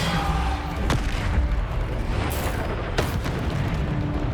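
The Bombarda explosion spell goes off in Hogwarts Legacy combat, with two sharp, loud blasts that decay into rumbling battle noise, alone without talk.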